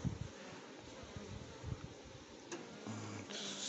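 Honeybees buzzing around a hive in an apiary where clusters of bees gather on the hive fronts, a steady close insect drone with occasional louder passes, no talking.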